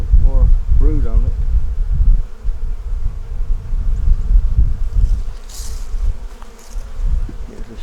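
Honeybees hum steadily up close on a brood frame in a beehive, a dense, continuous buzz. A low voice is heard briefly under it.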